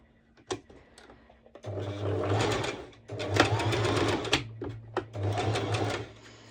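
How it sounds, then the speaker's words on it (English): A sewing machine runs three bursts, starting with a short back-and-forth reverse stitch and then a straight stitch on fabric for a lettuce-edge bottom. The motor gives a close, steady hum with clicks and pauses between runs. "So I do back and forth stitch at first, and then just normally straight stitch"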